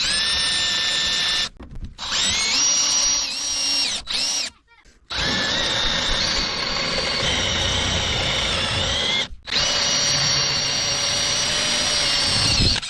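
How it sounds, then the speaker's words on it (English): A handheld power drill with a center drill bores a pilot hole in metal while making plank riveting tools, whining loudly and close, pitch shifting under load, with brief pauses as the trigger is released. "This is a center drill."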